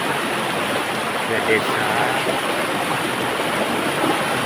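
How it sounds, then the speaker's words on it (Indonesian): River water flowing past a village in inland Kalimantan: a steady, even rush of moving water that fills the whole stretch, with a voice talking over it. "Hilir sungai ini adalah mengalir"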